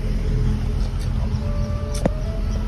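A car being driven slowly on a road toward a showroom, giving a steady low engine and road rumble throughout, with a brief sharp knock near the end and no talking.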